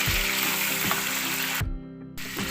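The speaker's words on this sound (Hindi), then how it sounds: "चिकन को हमने इतना भूनना है कि इसका कलर चेंज हो जाए" Chicken pieces sizzling and frying steadily in a pan over a medium flame while being cooked for chicken rara, a loud continuous crackle with a short dip near the end.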